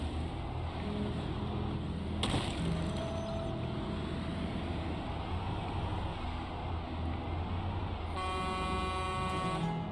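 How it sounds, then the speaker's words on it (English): Car horn honking in the Project Zomboid video game, heard as short sustained tones over a steady in-game ambient bed, with a sharper burst early on and a tonal, harmonic horn blast near the end. "So I'm not going to stick around, but we'll do some honking that way."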